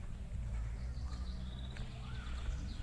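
Birds chirp and sing in a pine forest at a lakeside holiday complex, with faint scattered calls over a steady low rumble of background noise throughout.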